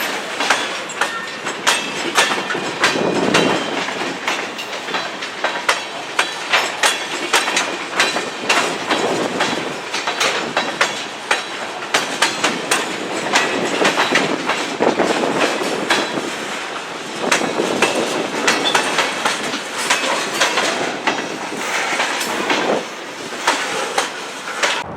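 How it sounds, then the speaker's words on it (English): A Chicago metro train rolls past loudly and close, wheels clattering rhythmically over rail joints with a continuous roar throughout. "here comes the metro train"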